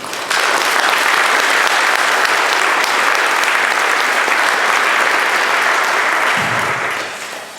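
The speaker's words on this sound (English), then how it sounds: "give a big rousing applause for all those who gave time and effort and talent to perfect this day of remembrance" Loud, dense audience applause fills a church retirement celebration for Garland, holding steady throughout before tapering off near the end.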